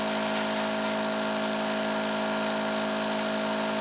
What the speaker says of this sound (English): I'm hoping you can hear me over the little compressor thing.